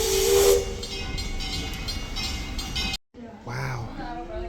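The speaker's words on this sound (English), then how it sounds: "The train's coming." A steam train arriving at Fort Edmonton Park gives a loud steady hiss of steam with high whistle-like tones, which cuts off abruptly near the end. Quieter rumbling and a voice follow.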